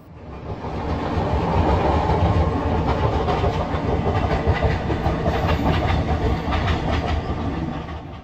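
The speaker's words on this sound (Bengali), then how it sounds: "আমাদের পাশ দিয়ে যাচ্ছে পুরী পাটনা এক্সপ্রেস।" The Puri Patna Express rushes past alongside another moving train in Odisha, a loud, continuous roar with rapid clickety-clack of wheels over rail joints and a rising hiss, sustained and close throughout.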